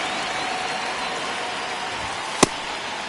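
A steady wash of stadium crowd noise fills a ninth-inning, one-run baseball game in MLB 26, holding at an even level with a single sharp crack near the end.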